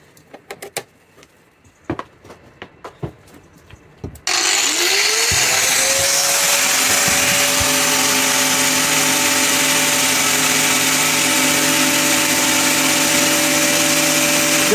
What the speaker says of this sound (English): I'm going to put this grinder on.